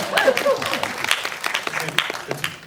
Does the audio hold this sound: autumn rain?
no